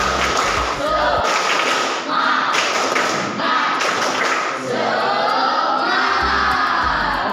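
Classroom of students doing a group rhythmic spirit clap cheer, loud patterned claps and thumps in bursts with children shouting chanted words between.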